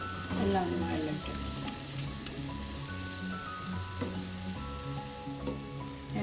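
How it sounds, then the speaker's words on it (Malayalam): Tomatoes and spices sauté in oil in a cooking pot for a sardine and pepper dish, giving a steady close sizzle. Soft stirring and faint voices or music sit behind it. "എല്ലാം ഒന്ന് വഴറ്റി"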